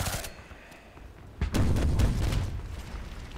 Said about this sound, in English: And the mortar.